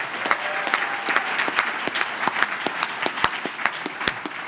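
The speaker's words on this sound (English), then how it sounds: "and yes, round of applause." A round of applause from the audience at a congressional district candidate forum, with scattered individual claps standing out sharply through a steady wash of clapping that holds at an even level throughout.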